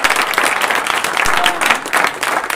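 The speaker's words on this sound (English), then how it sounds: "give yourselves a big round of applause" A room of participants applauds themselves, dense continuous clapping from many people, loud and close, sustained for the whole stretch.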